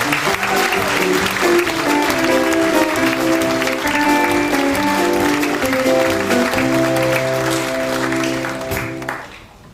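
An audience aboard a cruise ship bound for Alaska applauds, steady close clapping mixed with a sustained musical backing that fades out at the end.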